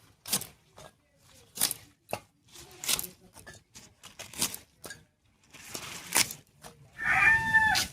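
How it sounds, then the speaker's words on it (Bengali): Taro leaves and stalks (kochu shak) are chopped with a knife on a board in a series of sharp, irregular close thuds, some quick pairs, followed by a brief rustle of handled leaves. "কচু শাকটা নিয়ে এলাম, এবারে কেটে নিচ্ছি।"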